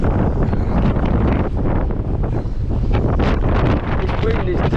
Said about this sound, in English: This wind is terrible.